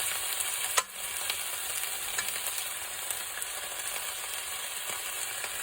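Garlic spread around a pan beside chicken pieces sizzles steadily at close range, with a sharp clink of a utensil near the start. Nobody speaks.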